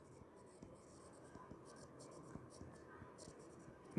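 A marker or chalk scratches across a board during a thermodynamics lecture, giving short quiet strokes in an irregular rhythm at low level, with faint background hiss.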